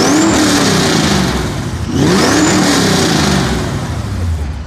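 A tuned 2015 Toyota Camry XSE sleeper at a SEMA show revs twice in quick succession, each blip rising sharply and falling back toward idle, loud and close.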